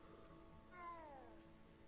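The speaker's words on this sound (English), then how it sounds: "Looks like an ocelot or something." A single short meow from an ocelot in the video game Hogwarts Legacy, faint and brief, rising then falling in pitch over a quiet game background.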